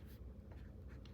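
A Lamy Studio fountain pen with a medium nib and turquoise ink writes on notebook paper, giving a soft, faint scratch of nib strokes over a steady low background hum, with no talking.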